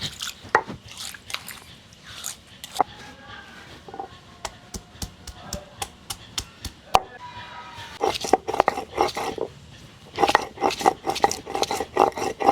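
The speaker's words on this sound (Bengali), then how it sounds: "এবারে শিলনোড়াটা ধুয়ে নেই আদা রসুনটা বেটে নিই" Ginger and garlic are crushed on a traditional grinding stone (shil-nora), giving sharp knocks and taps, some in a quick regular run and others in scattered clusters, with wet splashy touches from the stone.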